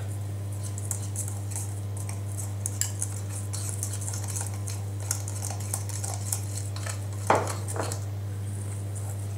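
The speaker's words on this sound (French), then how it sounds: "je vais l'ajouter doucement en fait et mélanger au fur et à mesure" A spoon stirs a mix of ayurvedic powders as rosemary hydrolat with a little mineral water is slowly added, giving soft scraping and light clinks against the bowl over a steady background hum, with one sharper knock near the end.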